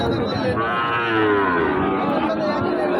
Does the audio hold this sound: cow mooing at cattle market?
yes